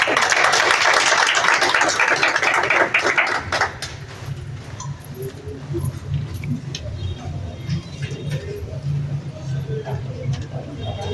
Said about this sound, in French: Et on applaudit encore.